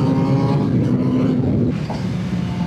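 A Suzuki GSXR 600 sport motorcycle riding at speed, its engine a loud continuous drone mixed with rushing wind, briefly easing off before pulling again.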